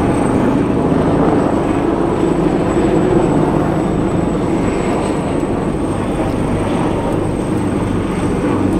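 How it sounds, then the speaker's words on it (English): Aircraft flying over in salute to Battleship New Jersey on the Delaware River, a steady, loud broadband engine roar that fills the whole stretch without letup. "So they're saluting them with a flyover."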